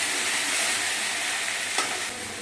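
Okra (bhindi) fries with onion and green chili in a pan, a bright, even sizzle that fills the short moment, with one faint scrape near the end and no voices.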